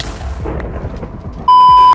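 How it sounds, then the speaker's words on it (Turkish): A phone rings once with a steady electronic tone lasting about half a second, loud and clear, rising out of a muffled rumbling game soundtrack. "Bir dakika telefon çalıyor."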